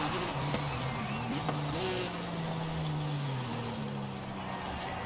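A Porsche 911 Turbo S accelerates hard in Forza Horizon 5, its rear-engine note climbing and shifting in steady loud sweeps, with the constant rush of other cars alongside.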